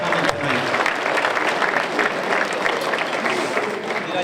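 An audience at a high school athletic Hall of Fame induction ceremony applauds the alumni inductees, a loud, sustained burst of clapping that carries through to the end.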